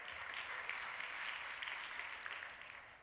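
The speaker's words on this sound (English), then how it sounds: "Now you can clap for that" Steady audience applause fills a demo day event hall, a dense continuous wash of many hands clapping at moderate volume for the whole stretch, with no talking over it.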